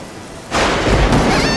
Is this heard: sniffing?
no